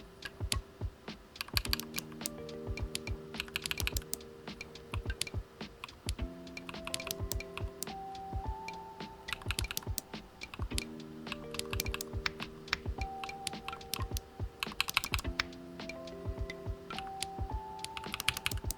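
Rapid, uneven clacking of keys on a cheap, small computer keyboard, typed close by in bursts with brief pauses, accompanied by soft electronic tones sounding alongside the keystrokes.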